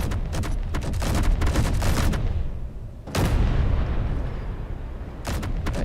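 Rapid, dense bursts of weapons fire in the space game Space Engineers, booming shots and cannon-like blasts in close succession with brief gaps, loud and near throughout.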